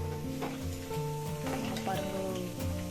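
Cauliflower pieces for Gobi 65 sizzle and crackle in hot oil in a large kadai, a soft continuous frying hiss under steady background tones, fairly faint and close.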